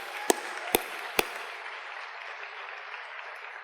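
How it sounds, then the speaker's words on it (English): Applause from a university convocation audience fading out, with three sharp nearby claps or knocks in the first second over a broad hiss of clapping that dies away quickly. "How about another round of applause for the students of the UC Davis Chamber Chorus"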